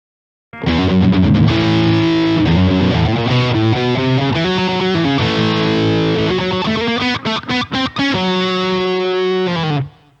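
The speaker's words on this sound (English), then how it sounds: "here's an example of just the Kamise pedal" A loud, heavily distorted electric guitar through a Kamise distortion pedal plays a chugging riff on its own, with sustained chords broken by quick palm-muted stabs and short stops.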